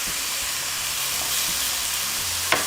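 Pancetta with mushrooms and other vegetables frying in a pan for a lasagne's bolognese sauce, giving a steady, close sizzle throughout with a brief clink near the end.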